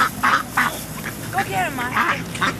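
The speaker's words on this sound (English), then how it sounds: "Yeah, these ducks are hungry." Ducks quack repeatedly at a park in short, nasal bursts, close by and fairly loud, while people talk over them.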